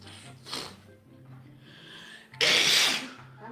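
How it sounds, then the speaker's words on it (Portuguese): A woman sneezes once loudly and close by, a sharp burst preceded by a fainter sniff or intake of breath, with low background hum around it. "É porque esse espirro dela é uma bicharada da bexiga"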